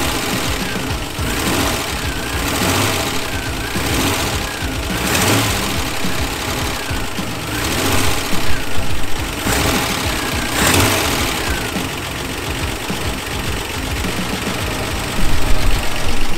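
Reliant six-cylinder engine running after manifold assembly, heard from the rear: a steady mid-pitched mechanical churn with rhythmic ticking and periodic louder bursts, continuous and close with no talking.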